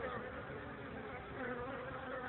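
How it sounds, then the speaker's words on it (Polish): Honeybees fly in to the hive carrying hazel pollen in early-spring sun, making a soft, steady, faint buzzing hum with no talking. "widać jak pszczoły przylatują z pyłkiem z Leszczyny."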